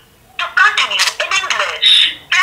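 A Jio Bharat B1 4G feature phone rings with loud, close, repeated electronic tone bursts separated by short gaps.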